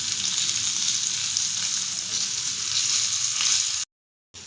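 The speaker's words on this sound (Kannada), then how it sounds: "ಸ್ವಲ್ಪ ಫ್ರೈ ಆಗಿಬಿಡಲಿ." Okra sizzling steadily on a hot tawa as a crispy fry, a continuous close hiss that cuts out abruptly near the end.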